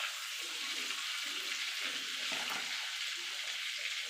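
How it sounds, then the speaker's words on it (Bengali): Bay leaf and whole cumin fry in melted butter for a rajma masala, giving a soft, steady sizzle with faint crackles that runs unbroken through the whole stretch. "ফোড়নটা একটুখানি ভাজা ভাজা করে নেব"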